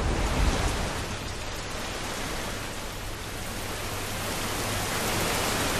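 Heavy downpour in Umargam, a steady dense roar of rain holding at an even level throughout, with no voices.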